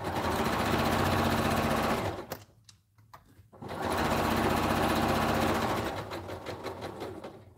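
A sewing machine stitching a blanket runs in a steady, loud mechanical whir, stops briefly for about a second, then starts again and keeps humming at a slightly uneven pace.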